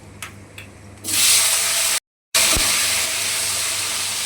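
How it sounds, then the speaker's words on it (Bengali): Chopped vegetables go into hot oil that already holds dried red chillies and a five-spice tempering, bursting into a loud, steady hiss of sizzling after a second of quieter clinks. The sizzle is broken by a brief dropout, then continues strongly to the end. "কেটে রাখা সবজিগুলো অ্যাড করে দেব"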